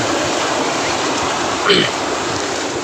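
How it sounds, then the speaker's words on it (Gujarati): Floodwater after heavy rain rushes steadily and loudly through a farm channel in a continuous broad roar, with a brief stronger whoosh partway through. "નારું ભમ ભમાઈને જાય છે પાણી"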